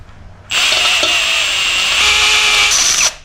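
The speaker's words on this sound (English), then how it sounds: "I've got a drill with an 8mm drill bit." Power drill fitted with an 8mm bit, run in reverse on a Triumph TR7 race engine build, whines loudly and steadily for about two and a half seconds before cutting off, with no talk over it.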